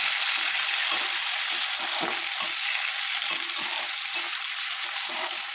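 Prawns fry in plenty of hot oil while being gently stirred, a continuous close sizzle broken by soft regular scraping strokes of a spatula in the pan.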